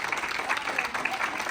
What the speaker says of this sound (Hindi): प्लीज, तालियां बजाइए।